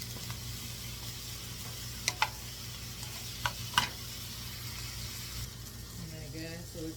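Frozen apple chicken sausages sizzle steadily in a hot pot, with a few sharp clinks of stirring near the middle and a voice talking briefly at the end.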